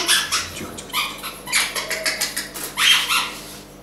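A large hunting dog whimpers and makes short yips and barks in a loose, irregular series, close and fairly loud with no other sounds.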